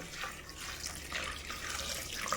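Water pours steadily into a pot of lentils and spices in a continuous splashing stream, close by and fairly loud, with no one talking.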